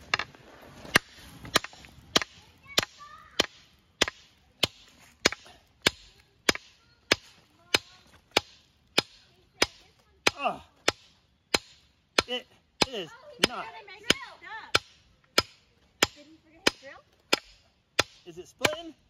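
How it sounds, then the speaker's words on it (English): A small log splitter wedge is driven into firewood with a hammer: a long, even series of sharp, close blows about every half second, with faint voices briefly heard partway through. "Okay, attempt number three, we're going with the hammer."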